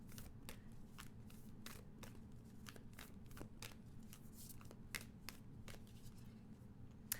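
Astrology cards being shuffled in soft, rapid riffles and light taps, faint and close, over a low steady room hum with no speech.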